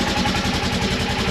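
A Hemi engine fitted in an N600 4x4 runs steadily nearby, a loud, even chugging pulse with a regular low throb and no voices.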